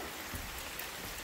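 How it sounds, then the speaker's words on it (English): Rain falls on a newly sealed roof covered with roofing paper but no shingles, a dense, even patter of drops close by with no voices. "I've been getting rained on all day."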